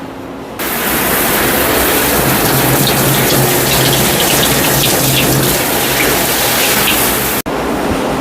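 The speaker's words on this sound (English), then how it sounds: "I'm going to go ahead and get the water warmed up." Tap water gushes steadily into a tub as it warms for a dog grooming bath, a loud, close, continuous splashing rush that cuts in after a quiet start and briefly drops out just before the end.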